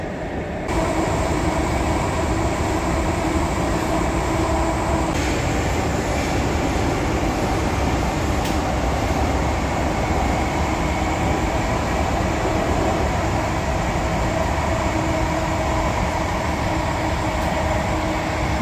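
A Mumbai Aqua Line metro train runs through a tunnel, heard from inside as a loud, constant rumbling roar with steady rail noise and a high ventilation hum throughout.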